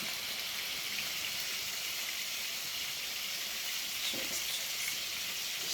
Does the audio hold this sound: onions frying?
yes